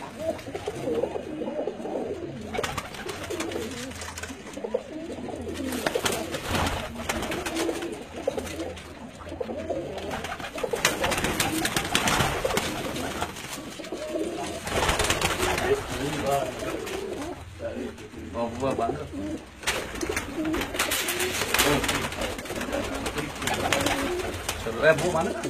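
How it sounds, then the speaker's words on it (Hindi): A loft of mixed pigeons, including Lakh Chiriyan Wale and Badshah birds from Jalalpur, cooing continuously amid wing flutters and rustling, with someone talking over the birds throughout. "इन्हां कबूतरां दा तुहानू इज्तमाही शौक करा रहे हैं"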